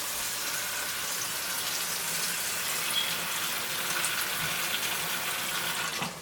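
Cold tap water runs in a steady, even gush while split red lentils are washed for an Ethiopian misir kik alicha, continuing without a break and with no talking.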